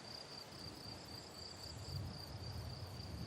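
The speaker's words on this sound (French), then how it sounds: "On entend les grillons" Crickets chirp at sunset in a rural southern French countryside, a steady high-pitched trill continuing throughout, faint and distant over a soft low ambient rumble.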